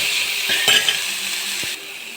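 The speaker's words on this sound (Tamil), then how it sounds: "தக்காளி பழம் நன்றாக வதக்க வேண்டும்." Tomatoes sauté in a pan with dried red chillies and curry leaves for a chow chow sambar, a bright close sizzle with a few spoon scrapes and light clinks against the pan.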